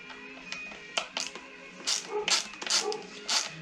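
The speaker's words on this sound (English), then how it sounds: "You'll have to excuse the dog barking." A dog barks several times in short bursts, moderately loud, over a faint steady hum.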